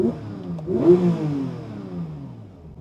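A Porsche 992 GT3 Touring revs while held in drive with both paddles pulled at night: one close, loud swell of engine revs that climbs, then eases and fades away.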